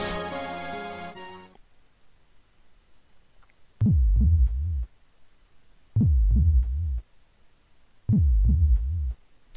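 Heartbeat in the Breath of Fire II video game, deep synthesized double thumps in three evenly spaced loud groups, following a brief musical chord that fades into near silence.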